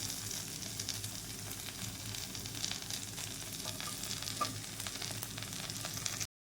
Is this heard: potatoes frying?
yes